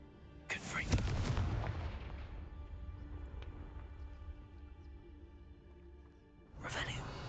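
A Confringo fire spell bursts in Hogwarts Legacy with a heavy booming blast, followed by a long rumbling fade and a second whooshing burst near the end.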